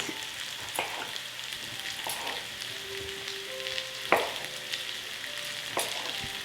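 Chopped tomato going into a hot frying pan for a rice dish, giving a steady soft sizzle with occasional sharp clinks and scrapes of stirring, close and alone without speech.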